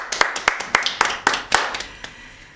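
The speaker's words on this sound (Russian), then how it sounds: "Аплодисменты прозвучали в нашу честь" A few people clap in a kitchen cooking show, sharp distinct hand claps in an uneven rhythm, close and loud, thinning out and stopping after about two seconds.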